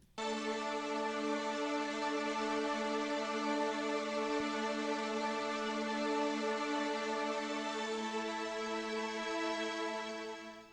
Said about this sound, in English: For the strings, it sounds like this